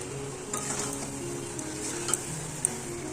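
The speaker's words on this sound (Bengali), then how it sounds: "আর আলু কষা হচ্ছে।" Potatoes and peas are sautéed in a pan with panch phoron, bay leaf, green chilli, ginger, turmeric, cumin and paneer masala, a faint steady sizzle with soft stirring and a couple of light utensil clinks.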